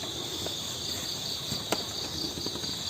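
Crickets chirp in a steady, continuous trill, close and even, with a few faint clicks and taps scattered underneath.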